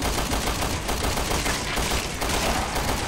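Rapid gunfire from the video game Resident Evil Revelations 2, a dense, continuous fusillade of shots that stays loud and unbroken from start to finish.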